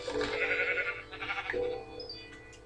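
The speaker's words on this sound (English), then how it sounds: "It's a sheep." A sheep in a video game bleats a couple of times up close, wavering calls over a soft background hum.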